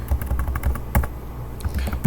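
Fingers tap a computer keyboard in quick, uneven bursts of close, crisp keystrokes, with no talking.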